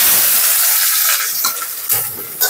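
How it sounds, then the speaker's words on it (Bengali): Chopped onions sizzle and hiss loudly in hot mustard oil in a kadai with bay leaf and dried chillies, a steady bright frying roar with a few stirring scrapes, no talking. "পেঁয়াজ কুচনো দিয়ে দিচ্ছি।"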